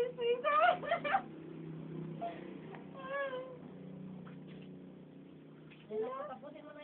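A cat meowing indoors, a few loud, wavering meows at the start followed by quieter drawn-out cries, with people talking in the background.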